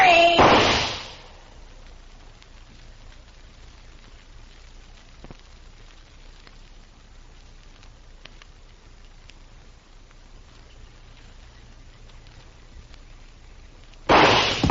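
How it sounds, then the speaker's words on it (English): Gunshots in a 1952 Gunsmoke western radio drama: one sharp, loud shot opens, followed by a long near-silent pause, then a second abrupt shot at the end. "I'm going to shoot."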